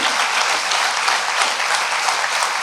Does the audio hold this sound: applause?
yes